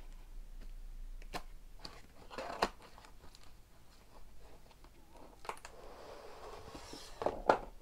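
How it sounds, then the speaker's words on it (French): Packaging of a PS5 DualSense Edge controller being handled during unboxing, with soft crinkles, light tearing and scattered small ticks and taps, faint and close, with no voices. "Il me tarde de déballer ce nouvel objet."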